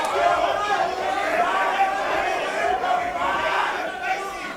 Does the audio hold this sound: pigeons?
no